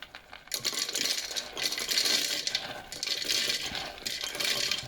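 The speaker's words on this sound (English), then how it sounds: "I'm going to crush all the dry roasted peanuts" Dry roasted peanuts being crushed and shaken in a container for homemade groundbait, a continuous gritty clattering that surges and eases in waves, close and fairly loud.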